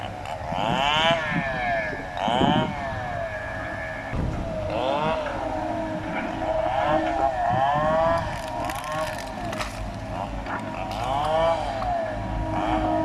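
A Kobelco SK200-3 excavator works rubber wood on a hillside, its engine droning steadily while hydraulic whines rise and fall in repeated sweeping surges throughout.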